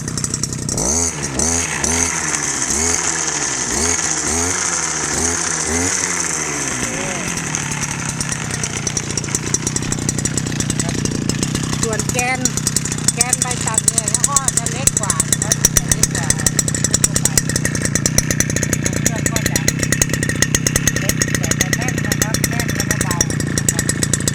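A STIHL FS230 two-stroke brush cutter engine revs up and down several times, then settles into a steady, loud high-pitched drone.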